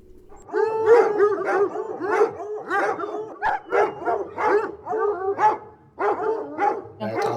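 A pack of hunting hounds on a stag hunt with hounds bays and barks continuously, many overlapping voices yelping and howling together at close to medium range with no talk.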